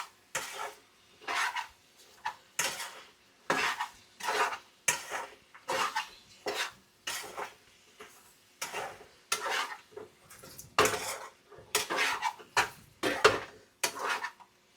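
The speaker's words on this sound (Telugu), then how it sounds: "ఇది అడుగు అంటకంట కలబెడతానే ఉండాలి, అప్పుపోతుంది అడుగు లేకపోతే." Chicken fry being stirred in a pan for a Rayalaseema-style dish, with a rapid series of scraping, clattering strokes of a spatula against the metal, loud and close, in a regular rhythm with short pauses.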